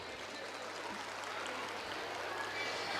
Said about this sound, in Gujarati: ફરી એકવાર આ ભવ્ય અને ઉત્સાહથી ભરપૂર કાર્યક્રમને તાળીઓના ગડગડાટથી વધાવી લઈએ.